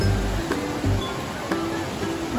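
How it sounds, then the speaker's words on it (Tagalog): Big ocean waves at Boracay beach break nearby with a loud, rushing wash, surging in a few heavy low swells across a couple of seconds. "Laki ng alon."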